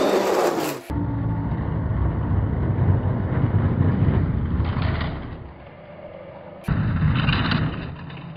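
Hot Wheels toy monster trucks rolling down a plastic downhill race track: a loud, continuous rattling whir of small wheels, with a sharp clack near the start and another around the middle as the run ends, no talking.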